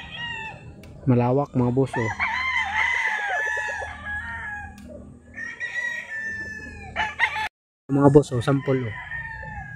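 Tethered gamefowl roosters, yellow legged hatch or golden boy sweater, aged 7 to 10 months, crowing loudly and close by in several bursts with clucking in between, while someone talks over them.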